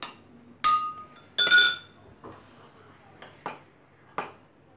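Milk is stirred into falooda in a glass, a spoon striking the rim in several sharp, ringing clinks close by, spaced out with quieter taps between them.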